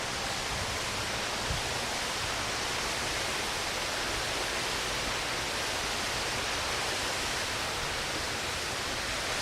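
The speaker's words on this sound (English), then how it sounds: "Got a waterfall right over here." A waterfall along a dug-out trench on the San Antonio Riverwalk gives off a steady, dense rush of falling water that stays constant throughout, with no voices.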